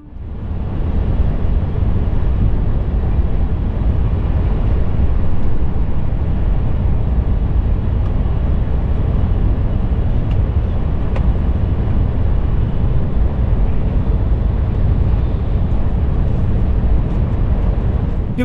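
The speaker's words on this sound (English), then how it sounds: "we can listen to the sound of our train going full speed through that station" A TGV Duplex high-speed train passes through Meuse TGV station at full speed, heard from inside as a loud, steady broadband rumble and roar that holds constant for the whole stretch with no talking.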